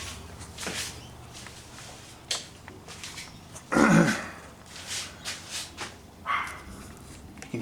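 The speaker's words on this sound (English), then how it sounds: "you can hear my guard chihuahuas in the background" Chihuahuas kept as guard dogs yap in the background of a garage, with scattered short barks rising faintly and irregularly over quiet surroundings.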